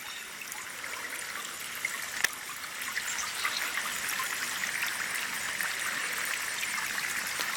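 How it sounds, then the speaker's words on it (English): Steady trickling, splashing water from a garden fountain runs continuously at a soft, even level, with no voices. "I always love the sound of running water in the fountains."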